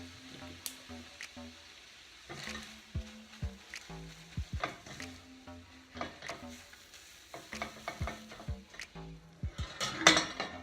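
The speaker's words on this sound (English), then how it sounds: "you take everything off the heat and you mix the cheese and the egg through" Egg and cheese are stirred through carbonara pasta off the heat, giving a run of close scraping and clinking strokes of a utensil against a pan, irregular in rhythm, with a brighter rattle near the end.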